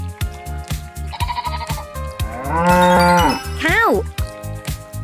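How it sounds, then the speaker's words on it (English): A cartoon cow moos once, a long, loud, bending call over a bouncy children's-song backing with steady beats. "Cow."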